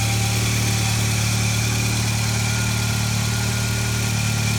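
A 1983 Volkswagen GTI engine idles steadily and close by, a constant low mechanical hum with faint vibration and no pauses, no voices present.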